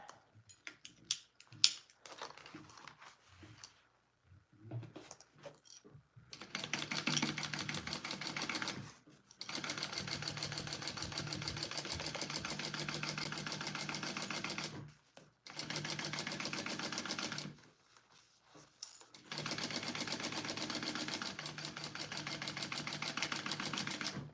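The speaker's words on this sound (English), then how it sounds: "let's sew that together" A sewing machine stitches a seam on a Mr. Heckles pattern project in three long steady runs separated by brief pauses, with some handling noises at the start.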